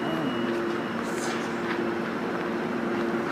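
A Metrolink train running four cab cars sits at Irvine station, giving off a steady loud rumble with a constant mechanical hum and faint squeals on top, heard close up throughout.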